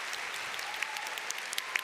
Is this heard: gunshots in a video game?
no